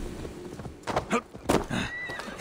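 A horse whinnies in Assassin's Creed Valhalla, a loud close neigh with snorts and hoof clops nearby, under brief talk.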